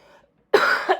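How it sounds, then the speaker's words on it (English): One close, loud cough, a couple of rough bursts after a brief quiet pause. "hopefully the coughing is not bothering you guys"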